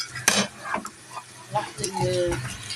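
Potatoes frying in a pan in a home kitchen, a soft sizzle with scraping and stirring clatter from a utensil, spread over a few seconds at moderate loudness.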